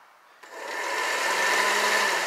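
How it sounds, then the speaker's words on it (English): Cooling fans and the A/C compressor on a Honda Civic switch on after near silence, rising quickly into a steady whirring hum that holds at a constant level, close up and with no talk. "The fans want to come on, and the AC compressor want to operate."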